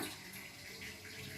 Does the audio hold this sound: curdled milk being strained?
yes